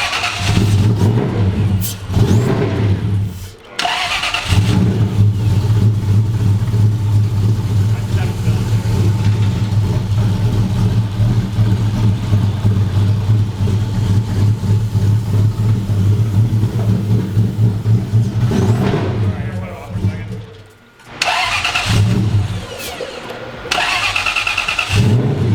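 A supercharged Toyota 1UZ V8 in a drift truck fires up and revs, a loud, close, rumbling idle that swells and dips, with two brief cut-outs and voices speaking over it.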